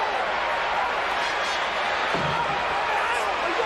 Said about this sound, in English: Listen to this crowd. Listen to this response.